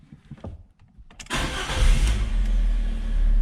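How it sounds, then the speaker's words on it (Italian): A Fiat Punto with an engine warning light and a suspected intake manifold pressure sensor fault: faint clicks and rattles, then the engine cranks and catches, settling into a loud, steady close-up idle. "se noi andiamo a mettere in moto la macchina"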